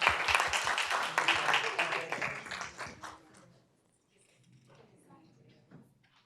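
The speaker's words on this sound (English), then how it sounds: "Another round of applause." Applause for honorees at a school board business meeting: a strong burst of clapping for about three and a half seconds, fading out into quiet room noise with faint stray sounds.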